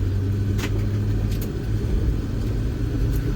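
Steady low rumble of a prewar car engine cruising through town at part throttle, a constant close drone with faint passing clicks and no voices.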